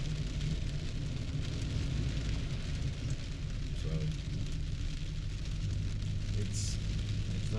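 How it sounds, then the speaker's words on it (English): Heavy storm rain pounds a moving vehicle on a flooded road, a dense, loud, continuous roar of drumming water with low rumble underneath and no clear break. "But we're having fun driving in the rain."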